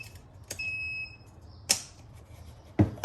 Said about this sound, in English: You hear that beep? It's all set up.